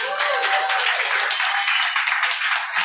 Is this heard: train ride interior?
no